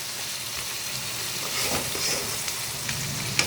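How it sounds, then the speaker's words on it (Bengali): Bitter gourd sizzles steadily in hot oil in a pan with salt and a little turmeric, a close, continuous crackling hiss with small pops and no voices. "উচ্ছেটা ভাজা ভাজা হলে, লাল লাল হলে"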